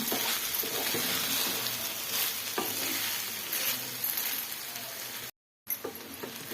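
Jeera rice fries in a pan with pepper powder while being stirred: a steady, close sizzle with scraping stir strokes throughout, cut off by a brief silent gap near the end.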